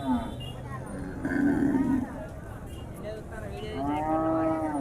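Jersey cow at a cattle market lowing in several drawn-out moos, moderately close and loud, amid background chatter of people talking nearby.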